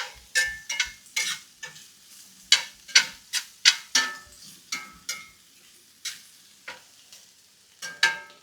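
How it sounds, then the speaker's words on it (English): Garlic sautés in a pan while a utensil stirs it in uneven bursts, sharp close scrapes and taps rising over a faint background sizzle, with no one speaking. "you just want to saute it for a couple minutes because you don't want to burn your garlic"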